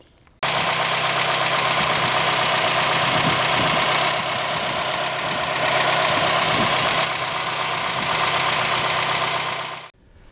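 A Honda car engine idles up close with loud valve noise, a steady rumbling drone overlaid by fast rhythmic ticking that runs unbroken for nearly ten seconds before stopping.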